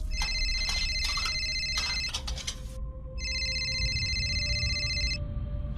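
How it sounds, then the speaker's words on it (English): A mobile phone rings in a quiet indoor room, its electronic tone repeating in short patterned bursts for several seconds, clear and close. "her phone suddenly started ringing"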